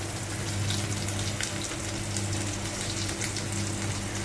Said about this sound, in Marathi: तर हे सगळं असं फ्राय करून घेते